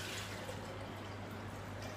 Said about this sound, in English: we half fill it with water.